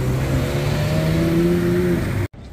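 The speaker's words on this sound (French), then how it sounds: "Carrera GT qui repasse, cette fois-ci avec le voiturier" A Porsche Carrera GT passes close by on a street in Monaco, its engine a loud, steady roar with sustained tonal pitches. The sound cuts off abruptly near the end, leaving a brief quieter tail.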